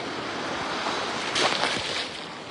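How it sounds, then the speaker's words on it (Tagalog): Large ocean waves breaking on a beach, taller than a person, roll in as a continuous wash of surf with one louder surge in the middle, close and without talk. "Sobrang laki ng alon. Lagpas pa sa tao."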